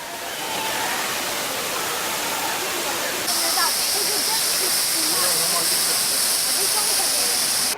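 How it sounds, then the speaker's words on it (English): David Waterfall, the main falls on a wooded trail, roars as a steady loud rush of falling water. A sharp bright hiss joins partway through, and some faint chatter sits under the roar. "There's David Waterfall coming through the trees."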